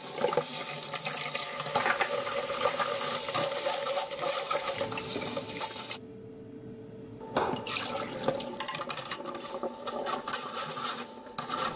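Black rice rinsed under a running tap, a steady broadband rush of flowing water filling most of the span, briefly cut off near the middle before the stream resumes; close and fairly loud, with no talking.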